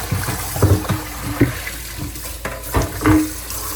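Water poured from a container into a small bucket while treating aquarium plants, with irregular close splashes and gurgling pours repeated over a few seconds.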